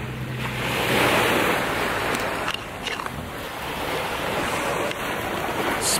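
Sea waves on the Abruzzo coast wash steadily in a broad, hissing roar, with gusts of wind buffeting the microphone and no voices for six seconds.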